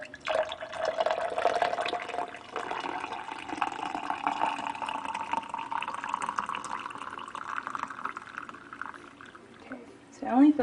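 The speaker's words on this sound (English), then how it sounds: "we're ready to pour ourselves a cup of joe" Coffee pours steadily into a cup for a homemade latte, a continuous close liquid stream with a rising fill tone lasting several seconds, followed by a brief clink at the end.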